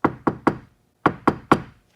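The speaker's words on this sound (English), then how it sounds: "This is the back door that is not sound deadened" Two sets of three quick knuckle knocks land on a car's back door that lacks sound deadening, each knock hollow and ringing briefly, with a short pause between the groups and no talking.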